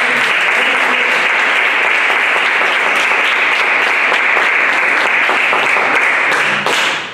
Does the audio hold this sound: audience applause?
yes